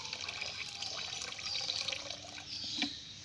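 Dissolved DAP fertilizer solution, 200 grams in 2 litres of water, is poured onto oil cake for growing chrysanthemums, making a quiet, steady close trickle and splash that lasts the whole few seconds.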